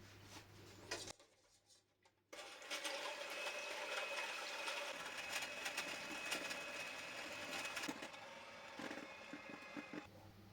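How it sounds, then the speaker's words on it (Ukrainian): Egg whites being whipped with sugar into a stiff foam, probably with an electric mixer, give a faint, continuous motor whir with light rhythmic tapping after a short quiet pause near the start. "Далі збиваємо яєчні білки з цукром в міцну піну."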